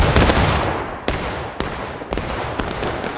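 Musket volleys in a Pickett's Charge battle game event: a loud, ragged crackle of massed musket fire opens the moment, then several sharp volley bursts follow at roughly half-second intervals, each trailing into a rumbling echo.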